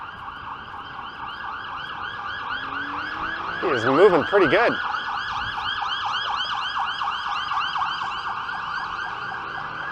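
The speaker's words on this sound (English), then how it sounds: "What kind of sirens are these? Oh, it's a police car." Police car siren wailing in a repeating up-and-down sweep through downtown Toronto streets on a Friday afternoon, steady and fairly loud throughout, with a brief passing vehicle swell midway and a voice briefly speaking.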